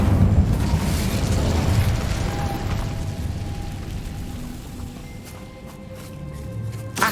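Fiery whoosh and booming burst from an Incendio fire spell cast in Hogwarts Legacy, loud and heavy at first, then dying away into a lingering crackle with faint footsteps and mechanical clatter behind.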